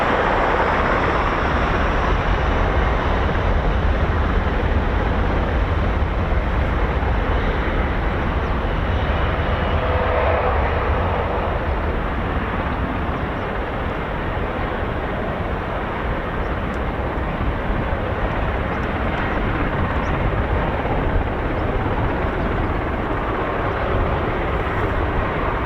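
A US Air Force KC-135 Stratotanker climbing out after departure, a loud unbroken roar of jet engines held steady throughout, close and dominant with no talk.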